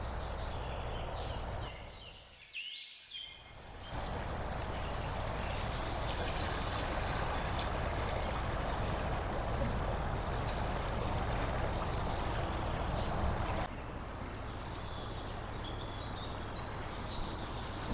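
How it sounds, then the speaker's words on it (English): Steady rushing river flow on a winter walk between Horton Kirby and Farningham, the water running high and overflowing near a gate. It is a continuous broadband wash, dipping briefly early on, with faint birdsong above it. "The river is flowing beautifully."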